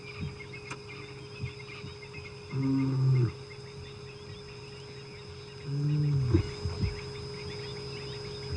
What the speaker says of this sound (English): he's giving off a little roar